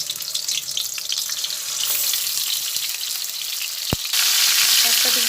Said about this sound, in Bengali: এই কাতলা মাছের মাথাগুলো তেলের মধ্যে দিয়ে ভেজে নেব